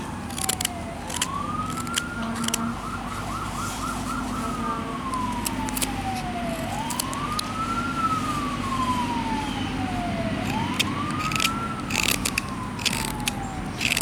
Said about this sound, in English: we got an ambulance running somewhere or something